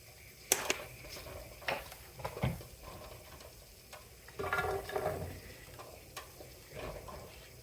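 Vegetables sautéing in a pan over low heat, a soft sizzle with occasional stirring scrapes and clicks close by, quiet and without speech.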